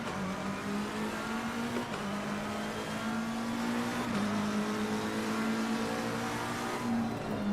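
Race cars at a race start at Zandvoort in Assetto Corsa Competizione, a steady loud engine drone with rising revs and gear-change dips, several cars droning together without pause.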